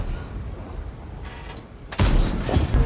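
A tank's 122mm main gun fires in a video game, the Obj 777 II. A muffled, distant-sounding report comes first, then a sharp, loud blast near the two-second mark, with a rumbling tail.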